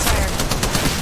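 Dense, continuous automatic gunfire from the mobile battle royale game Apex Legends Mobile, a loud rapid burst that fills the whole second with no break.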